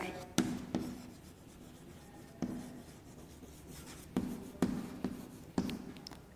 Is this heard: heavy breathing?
no